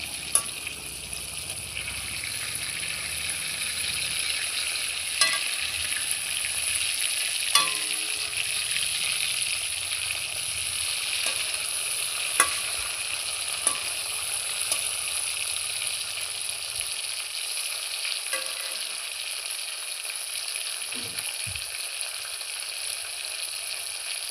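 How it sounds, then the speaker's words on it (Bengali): Steady, broad frying sizzle of hilsa fish heads in oil runs throughout, with a few sharp clinks and scrapes as pieces are turned; no talking. "এবার আমি উল্টে পাল্টে অপর পিঠগুলোও ভালোভাবে ভেজে নেব"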